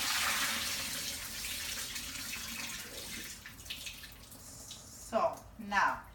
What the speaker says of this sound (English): You wanna add 3 cups of water.